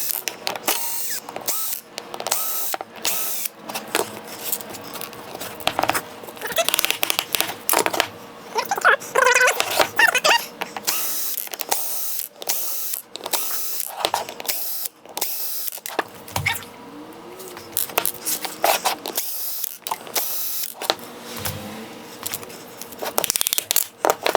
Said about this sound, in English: So now I'm going to take apart the mold to take this out